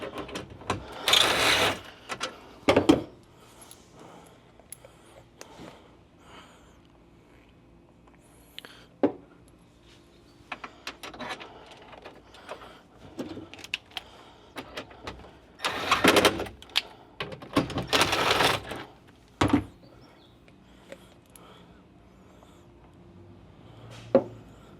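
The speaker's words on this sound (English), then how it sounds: "here's where an electric impact really helps" An electric impact wrench tightens bracket hardware on a Ford Bronco Raptor, heard as several short buzzing hammering bursts separated by quiet pauses and faint handling noises.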